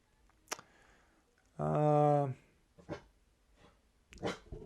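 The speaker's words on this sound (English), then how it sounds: "That's my dog." A dog indoors lets out one drawn-out, moderately loud bark or yelp with a clear tonal ring, set among faint room noises and brief clicks.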